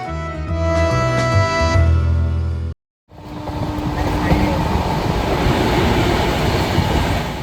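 The Howrah–Puducherry Superfast Express passenger train runs with a steady loud rumbling roar from on board after a brief musical opening and a moment of silence, with no clear voices.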